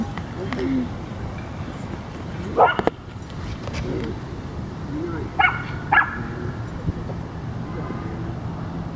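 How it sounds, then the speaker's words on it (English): A dog at a busy outdoor dog park gives a few sharp barks and yips spaced apart, heard at a moderate distance over wind and a steady outdoor background. "that dog barks way too much"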